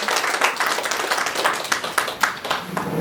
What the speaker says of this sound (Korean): 우리 다시 한번 큰 박수로 한번 격려하도록 하겠습니다.